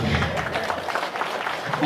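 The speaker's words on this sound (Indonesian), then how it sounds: "Tepuk tangan dulu." Applause from a sermon congregation at an Indonesian mosque gathering, a steady dense wash of many hands clapping close by for the whole stretch, with some voices mixed in.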